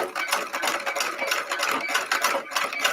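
A treadle sewing machine runs steadily while stitching piping, its needle pulsing in a fast, even mechanical rhythm, close and continuous with no voices.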